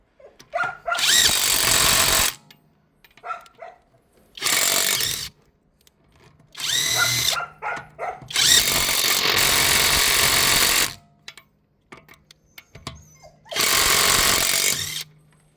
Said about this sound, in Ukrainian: Тобі різниця в гайковертах.